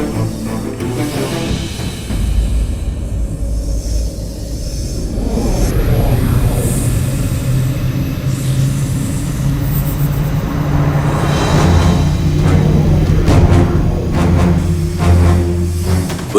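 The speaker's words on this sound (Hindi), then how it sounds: "पुष्पक विमान" A Pushpak Vimana flying chariot approaches in a Hindu mythological drama, a steady aircraft-like roar that builds and stays loud and continuous, rising toward the end, with no talk over it.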